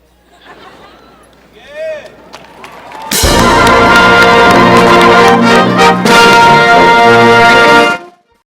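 Graduates at a 2015 winter commencement standing and cheering: faint talk and murmurs, then a sudden loud, sustained roar of crowd cheering lasting about five seconds before cutting off.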